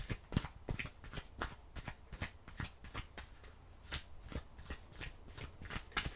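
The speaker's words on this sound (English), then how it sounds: "let me get your last tarot cards here" Tarot cards are shuffled close up in a quick, steady run of crisp riffling flicks and soft slaps that continue for several seconds without talk.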